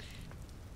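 Rain falling in the video game Vintage Story: a brief, quiet hiss of rain with soft patters of drops, faint and continuous, heard alone.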